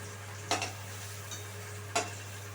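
Fried soybean chunks are scooped from a pan of hot oil into a pot. Two distinct utensil clinks sound over a faint steady sizzle and hum.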